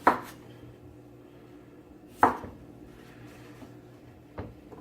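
A knife cuts through small pickling cucumbers on a board in three distinct, crisp chops spaced about two seconds apart in a quiet kitchen.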